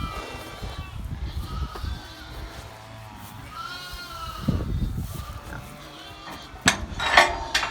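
Blue Faced Leicester sheep and lambs bleating on a farm, several wavering calls rising at different moments, some near and some farther off, with pigs grunting and snorting among them.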